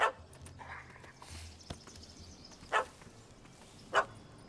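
A dog barks in The Witcher 3, a few separate sharp yelps spaced out over a low ambient game background, moderately loud with no talk.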